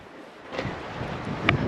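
Strong wind blows along a lake shore on Madeline Island, buffeting the microphone with gusty, rumbling noise that swells and dips irregularly, with faint lapping water beneath and no talking.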